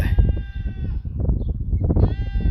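Goats on a farm bleat loudly and close by in a few long, wavering calls, with background animal and farmyard noise underneath.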